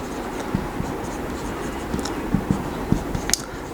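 Someone writes by hand during an accounting lesson, with soft continuous scratching and several small taps and strokes at an irregular pace, close and fairly quiet.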